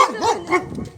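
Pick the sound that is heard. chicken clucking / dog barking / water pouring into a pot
dog barking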